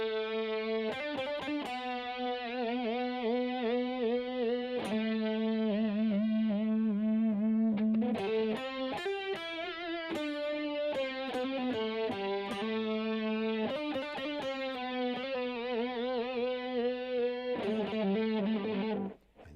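An electric guitar solo section with overdriven tone and light modulation, bending and sustaining melodic lines over a steady, continuous level, mostly held notes with quicker runs and a few sharp pick attacks.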